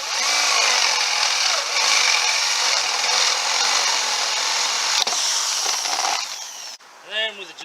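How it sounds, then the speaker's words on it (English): A jigsaw cuts wood for a drawer in an NM Pajero camper rebuild, giving a loud, steady buzzing rasp for about six seconds before stopping. A voice is heard briefly at the end. "And with a jigsaw"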